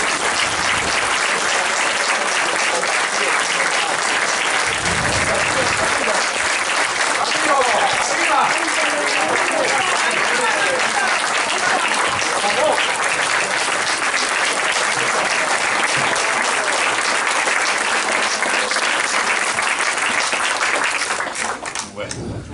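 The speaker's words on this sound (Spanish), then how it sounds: "vamos a hacer un aplauso para todos y para el representante" Loud, sustained applause from a crowd, dense clapping filling the space for a long stretch before tapering off near the end.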